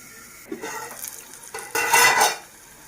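A metal lid is set onto a pan of simmering broad bean seeds and fenugreek leaves, giving a few clanks and rattles followed by a brief louder clatter and faint sizzle underneath, close by and without talking.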